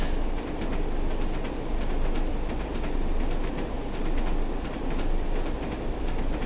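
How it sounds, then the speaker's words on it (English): Steady clickety-clack of class 101 diesel train wheels rolling over rail joints in Train Sim World 2, a continuous rumbling cab ride with regular rhythmic clicks throughout. "you really do hear that clickety-clack as you trundle along"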